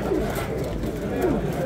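Pigeons at a pigeon show coo softly in a couple of low throaty calls, partly buried under people talking and the noisy background of the gathering.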